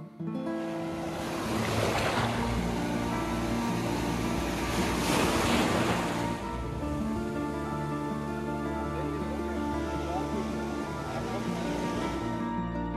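Ocean surf rolls in at Rock Beach in Pondicherry, with two broad wave surges washing up over a steady roar of wind and sea, close and fairly loud.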